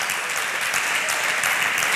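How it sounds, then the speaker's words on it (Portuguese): A church congregation applauds loudly, the dense, even clapping of many hands filling the room without a break. "Quanto pode aplaudir bem forte a palavra de Deus?"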